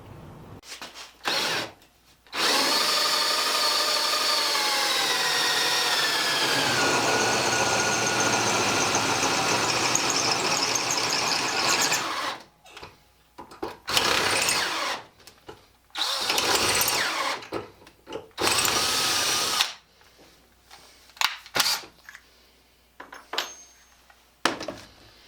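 A power drill with a carbide bit grinds into steel with a long continuous run, then several shorter bursts stop and start, the whine shifting as the bit bites.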